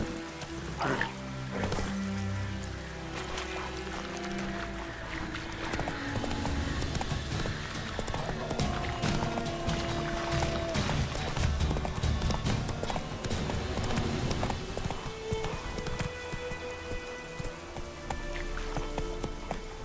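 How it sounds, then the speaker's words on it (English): In the Witcher 3 video game, a horse's hooves clip-clop in a steady rapid gallop, dense and continuous over a rushing wind-like bed, with sporadic louder knocks and a brief line of speech. "That's it, Roach."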